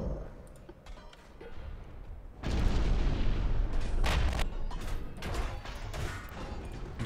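Naval guns firing high-explosive shells in Ultimate Admiral: Dreadnoughts: a heavy booming salvo lands hard and rolls into a dense, sustained rumble of further shots and impacts, loud and close.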